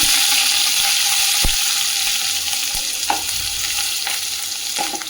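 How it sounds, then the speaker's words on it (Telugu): Onions frying in hot oil for a village-style mushroom curry, a dense, continuous hiss and crackle close by, with a few faint knocks and clicks scattered through it and no speech. "ఆయిల్ హీట్ అయిపోయిన తర్వాత నేనైతే ఆనియన్స్ వేసుకుంటున్నాను"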